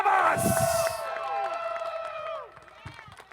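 Crowd applause and cheering for the winner of a 2023 Mid-Ohio race, a bright burst of clapping and whoops at the start that tails off within a few seconds while ringing tones and scattered voices continue.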